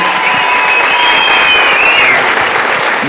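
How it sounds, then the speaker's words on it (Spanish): Loud, continuous applause from a crowd at a live podcast recording, close and even throughout with a faint whistle riding over the clapping. "Un aplauso, amigos Andrés, por favor"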